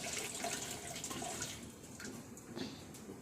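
Water runs steadily from a direct household tap used for drawing puja water, a soft continuous splashing stream at moderate distance with no talk.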